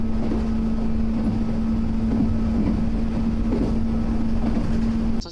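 Train running at speed on the Bantan Line between Fukusaki and Teramae, a 110 km/h stretch, heard from inside as a loud, steady roar with a droning motor hum and faint rail thumps throughout.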